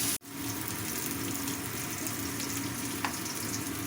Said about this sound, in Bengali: এরপরে এগুলোকে ভালো করে একটুখানি ভেজে নিতে হবে। তবে পেঁয়াজটাকে আমরা একটু হালকা করে ভাজবো